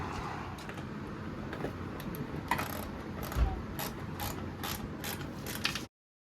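A ratchet clicks rapidly while tightening the mounting hardware of a 270-degree awning on a Jeep Gladiator, outdoors, with irregular metallic clicks and bursts over faint background noise before cutting off.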